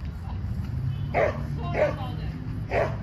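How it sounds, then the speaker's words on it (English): Three dogs bark in a few short, spaced yips and woofs at middle distance over a low background hum, with a person talking nearby. "There's like three dogs barking at me"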